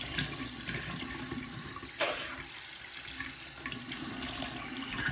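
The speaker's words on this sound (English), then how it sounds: "Stand back up and just rinse, splash water on my face," A bathroom sink tap runs steadily while someone rinses and splashes their face, with softer splashing in between. A sharper burst of splashing comes about two seconds in, and the sound is faint and close.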